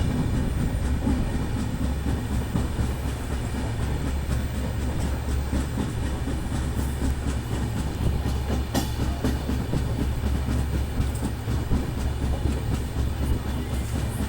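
A Radhikapur–Anand Vihar train runs past on the railway near Gorakhpur Cantt with a loud, steady, close rumble of wheels and carriages that lasts throughout, with no voices.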